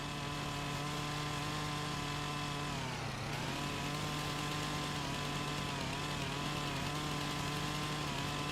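A chainsaw in a farming video game drones steadily at high revs for the whole stretch, with a brief dip in pitch partway through before it climbs back, loud and continuous with no talk.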